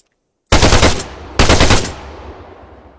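Two loud, sharp bursts of assault rifle fire in the video game Arma 3, each a quick automatic volley followed by a decaying echo, standing alone against silence.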